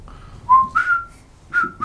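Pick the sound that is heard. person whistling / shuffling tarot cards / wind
person whistling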